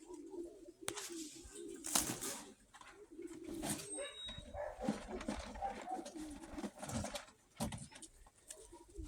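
Pigeons in a loft coo softly and repeatedly, the low burbling calls overlapping with light rustling, wing flutters and scattered taps nearby.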